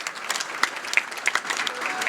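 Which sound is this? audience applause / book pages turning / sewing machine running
audience applause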